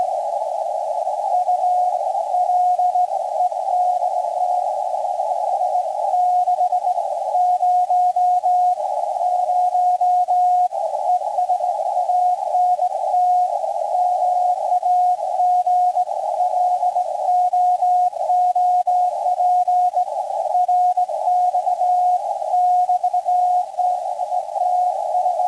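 A RTTY radio signal carries a station's contest number, a continuous narrow warbling tone that flips rapidly between two close pitches and holds steady and clear for the whole stretch with no voice.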